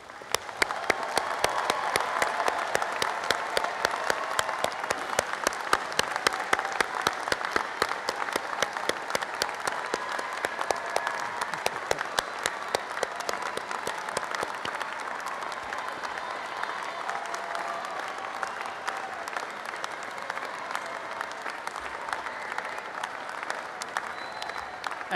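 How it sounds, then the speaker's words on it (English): A commencement audience of families and friends applauds a graduating engineering class of 2016 at Berkeley. Steady, dense clapping runs throughout at a moderate distance, easing slightly in the later part. "join me in applauding this outstanding cohort of Berkeley engineers"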